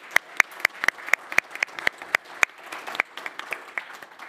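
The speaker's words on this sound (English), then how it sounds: "Maybe a round of applause." A small audience claps for the speakers at the close of a talk, with a sparse, steady run of distinct hand claps, moderately close and not very loud, fading slightly toward the end.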